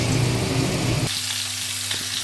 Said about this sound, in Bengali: এবার মশলাটাকে ভালো করে কষবো।